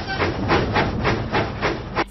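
Percy the steam engine from a Thomas & Friends game puffs along in a quick, even rhythm, about eight loud, close steam chuffs in two seconds.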